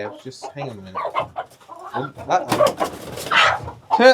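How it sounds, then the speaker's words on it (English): A feisty hen clucks and squawks near the microphone in a chicken coop, bursts of agitated fowl calls mixed with people talking. "that was a hen"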